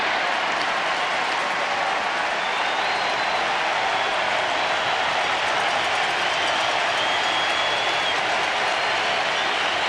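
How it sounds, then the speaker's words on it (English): Stadium crowd at a 1995 playoff baseball game in Seattle, Yankees at Mariners, cheering and roaring steadily as a broad, continuous wash of noise for the whole stretch, with no speech. "This is a crowd which obviously is accustomed to cheering for Randy Johnson."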